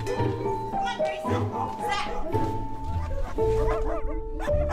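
Several dogs bark and yip at a home for special needs dogs, with short bursts over a steady musical tone and light background voices.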